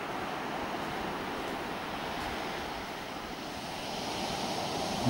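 Surf breaks on a clean white-sand beach near Lochinver as a cold north wind blows, a steady, moderately loud wash of waves blended with wind buffeting the microphone.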